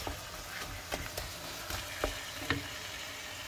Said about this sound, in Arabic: هنايا غادي نزيد الكفته ديال الدجاج ديالي اللي ما دايريلاش العطريه، غنخليها تشحر